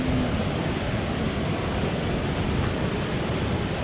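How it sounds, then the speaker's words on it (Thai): A waterfall in Cat Cat village near Sapa roars as a steady, dense rush of falling water, close and unbroken throughout with no voices. "ไปดูน้ำตกกัน"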